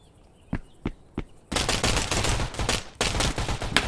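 Gunfire in the video game Intruder: three separate sharp shots, then sustained rapid bursts of automatic fire, loud and close with no talk.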